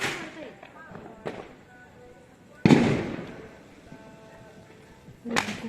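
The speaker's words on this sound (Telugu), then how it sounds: "అందరు బాంబులు వెళ్ళడం కూడా స్టార్ట్ చేశారు ఫ్రెండ్స్." Diwali firecrackers burst in sharp, loud cracks: one small pop early on, a big close blast near the middle with a rumbling tail, and another crack at the end, over background voices and festive chatter.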